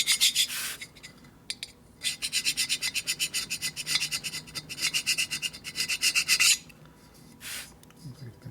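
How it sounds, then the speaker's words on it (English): A super scraper cuts paint and rust off the cylinder of a 1980 Harley-Davidson Shovelhead 92ci stroker top end, in a quick run of rhythmic rasping strokes with short pauses before and after. "So I'm going to take our super scraper. Cut the paint and the rust."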